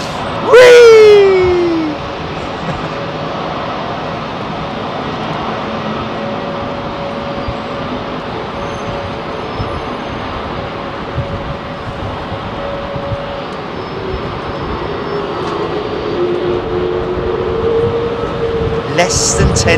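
A heavy jet departs runway 27R at London Heathrow with a loud, sustained engine roar that builds steadily over about twenty seconds. A sharp whine rises near the start, and the roar is heard from near the runway.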